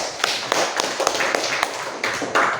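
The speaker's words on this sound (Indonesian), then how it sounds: "beri aplaus untuk Isan" A brief burst of classroom applause: a few scattered, uneven claps sound close by and trail off within a couple of seconds.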